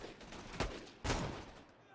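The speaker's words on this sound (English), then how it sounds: "what sounds like bolt-action Jacob sniper" Sniper rifle fire in Borderlands 2, with two sharp, loud shots about half a second apart. Each crack fades into a brief echo.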